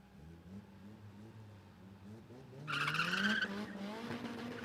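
A Nissan R32 GTR and a Datsun 1600 launch in a drag race, engines droning low before a sharp burst of revving and tyre squeal swells loudly partway through, with a commentator talking over it.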